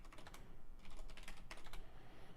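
Rapid keystrokes clatter on a computer keyboard as a command is entered, a close, busy run of light taps with short pauses and no talking.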